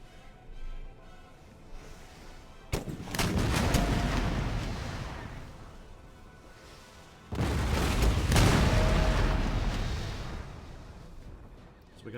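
Two heavy artillery salvoes in Empire Total War pound fortress walls, each a sudden booming roar of overlapping cannon blasts that rumbles on and slowly fades, the second volley arriving several seconds after the first.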